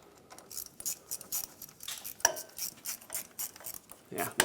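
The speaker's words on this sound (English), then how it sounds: "I'm just going to use a small 1/4-inch ratchet to ensure that the threads are going in nicely" A small 1/4-inch ratchet drives bolts during a rack and pinion replacement on a 1996-2002 Toyota 4Runner, clicking in a steady series of close, quick pawl ratchets without speech.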